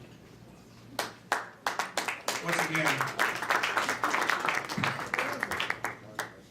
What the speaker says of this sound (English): round of applause for our awardee.